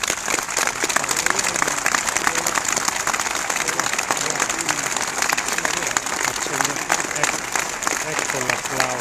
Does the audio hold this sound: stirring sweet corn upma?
no